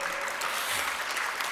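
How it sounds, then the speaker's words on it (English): Sustained audience applause from a crowd at a women's keynote speech, steady dense clapping throughout with no voices over it. "You ought to clap right there."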